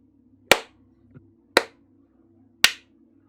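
Three sharp, isolated claps ring out about a second apart, each a crisp close crack with a short decay, over a quiet background hum.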